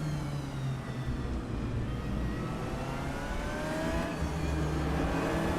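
Race car engines in the RaceRoom video game, with a McLaren 720S ahead, whine steadily at high revs. The drone is continuous and fairly loud, and the engine tones slowly rise and shift with no talking.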